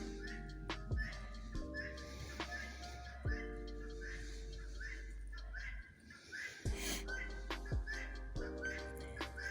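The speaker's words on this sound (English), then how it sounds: "Yes, that is the guineas. They've been very loud today." Guinea fowl call repeatedly outdoors on a snowy winter property, sharp whistling chirps recurring every second or so at moderate distance over a steady low engine-like hum.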